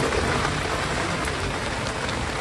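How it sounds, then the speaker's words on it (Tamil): Heavy rain pours down in a dense, even wash of hiss, loud and continuous from start to end with no voices. "ஐயோ மழை ஜோரா பெய்யுது"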